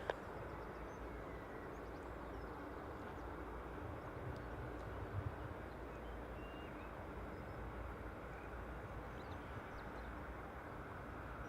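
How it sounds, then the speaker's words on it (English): Airliner going around on a missed approach at Dublin Airport, a distant steady roar of jet engines held at an even, faint level throughout, with no voices. "This aircraft went around just as they changed runways."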